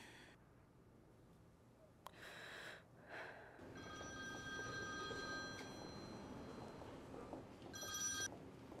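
A telephone rings in short bursts in an indoor drama scene, with a faint breathy sigh and background room noise between the rings; no one speaks.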